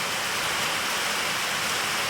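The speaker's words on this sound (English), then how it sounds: "It's still raining." Steady broadband rain hiss falls outdoors, a dense, even wash of drops with no breaks or talk.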